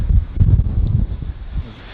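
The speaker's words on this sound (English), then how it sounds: "it's getting windy here" Wind buffets the microphone at LAX airport, giving a low, gusty rumble that swells and fades over two seconds.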